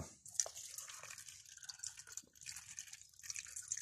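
Water is poured into a basin holding prickly pear pads, giving close, splashy trickling and dripping with small irregular splashes throughout, fairly quiet and with no voices.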